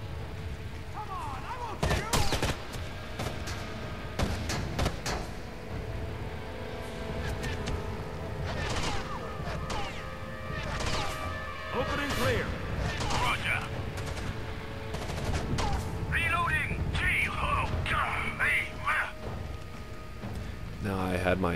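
Gunfire rattles through a firefight at the Nevada Dam in the Rainbow Six Vegas shooter game, with scattered shots and bursts over steady action noise and someone talking throughout.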